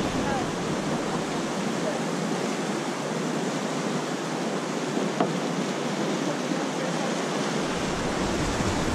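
Clear Creek rushes steadily past as a broad, continuous wash of flowing water, loud and close, with no break over the whole stretch.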